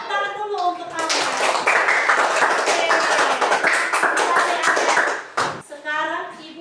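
Children in a classroom clap together in a quick, ragged burst that lasts a few seconds and then stops abruptly, with a teacher speaking just before and after it.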